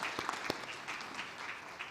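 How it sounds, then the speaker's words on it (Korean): A church congregation at a Sunday service gives a short burst of applause for an elder, faint and somewhat distant, with a few sharper individual claps standing out. "우리 신상철 장로님께 박수 한번 합시다."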